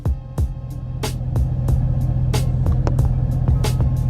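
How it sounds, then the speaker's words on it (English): A lifted 2020 Duramax pickup with a FabTech lift pulls up to a shop, its steady low diesel rumble running throughout, with sharp clicks and knocks scattered over the engine drone. "look at this truck pulling up to the shop"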